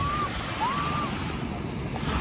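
Ocean surf washing in steadily on Puri Golden Beach, a broad continuous roar mixed with wind buffeting the microphone, with a brief whistle-like tone early on.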